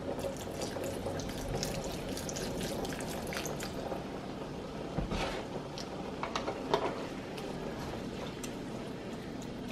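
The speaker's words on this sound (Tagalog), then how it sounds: "Lagyan ulit natin ng kaunti pang sabaw," Broth is poured into a pan of adobong sitaw with ground beef, a continuous soft liquid trickle and splash with occasional faint clinks, fairly quiet and without talk.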